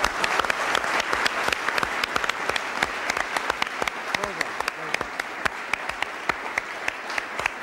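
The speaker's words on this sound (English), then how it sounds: "Congratulations and a round of applause" A studio audience at a school broadcast claps steadily in sustained, fairly loud applause for the whole stretch, with no voices standing out.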